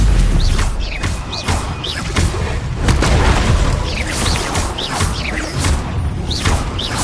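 Stupefy stun spells cast in Hogwarts Legacy on PS5, a dense run of whooshing magic bursts and thudding impacts over a constant layer of game combat noise, loud and close throughout.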